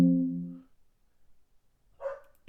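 Indoor dog giving two short barks, the first a deep, fuller bark at the start and a second sharper one about two seconds later, with near silence between.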